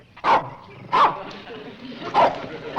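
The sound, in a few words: dog barking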